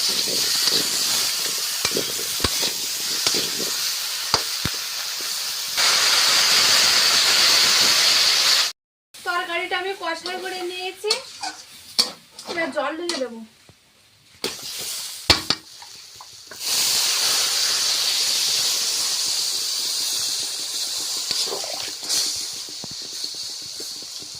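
Curry simmering in a covered pot over a village cooking fire, giving a steady hissing bubble in two long loud stretches, broken by a burst of clattering and stirring in the middle.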